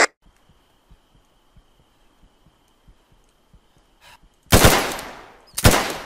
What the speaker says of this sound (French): C'est moi qui est en train de tirer là